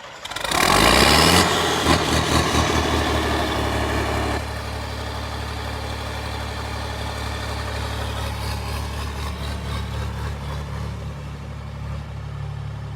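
A John Deere 4020 tractor engine cranks and fires with a loud burst, then settles into a steady, rumbling idle that runs close and continuous with no talk.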